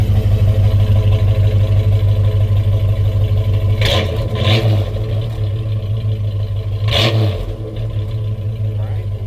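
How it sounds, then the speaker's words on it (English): A 1964½ Ford Mustang convertible idles with a deep, throaty exhaust rumble, punctuated by a few short clattering bursts, loud and close. "Listen to the exhaust here."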